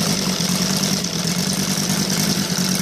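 A model OS Sirius five-cylinder radial engine, gasoline-fuelled and running on its regular carburetor, holds a loud, steady buzzing drone close up with no pauses.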